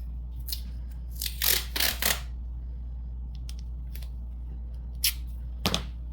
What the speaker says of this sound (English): And now I'm going to take masking tape.